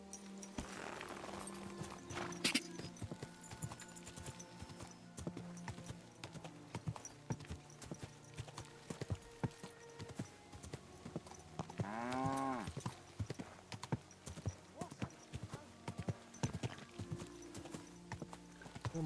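Horse hooves clip-clop in a steady walking rhythm in the video game Kingdom Come Deliverance 2, faint and continuous, with a brief whinny-like call midway.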